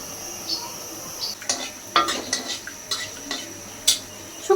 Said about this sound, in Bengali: শুকনা মরিচ ভাজতেছি